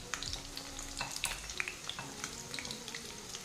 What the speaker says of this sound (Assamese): মিডিয়াম ফ্লেমতেই ভাজিব বা ল' ফ্লেমত